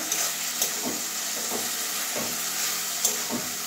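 Prawns being sautéed with spice paste in a pan, a continuous bright sizzle punctuated by regular scraping stirs of a spoon every half second or so, close and clear with no voices.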